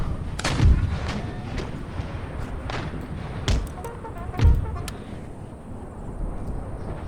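Artillery guns fire during a siege of Damascus in Empire Total War, heard as a few heavy, booming thuds spaced seconds apart over a steady rumbling battle background, with no talk.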